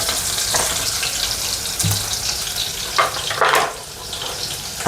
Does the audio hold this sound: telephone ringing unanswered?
no